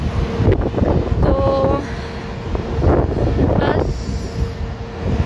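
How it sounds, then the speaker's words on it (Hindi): Wind blows steadily in an outdoor park on a warm day, a broad rushing noise with gusts and mic buffeting throughout, and someone talks briefly over it. "हवा चल रही है यहाँ पर काफ़ी अच्छी, थोड़ी गर्म है लेकिन बहुत गर्म हुआ नहीं है"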